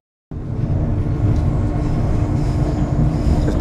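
Passenger train on the Brisbane to Gympie North line arriving at a station, a loud steady rumbling roar that starts abruptly and carries on with faint rail clatter.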